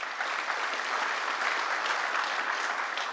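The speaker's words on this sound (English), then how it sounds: "let's give a big round of applause for our next speaker, Timothy." A conference audience applauds a speaker taking the stage, a steady wash of many hands clapping at even strength throughout, with no voices standing out.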